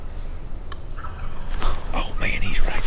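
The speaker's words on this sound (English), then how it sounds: "Daddy yelped and they gobbled." Wild turkeys gobble back in answer to a yelping call, a couple of rough bursts of gobbling from the woods at moderate distance, over steady outdoor background noise.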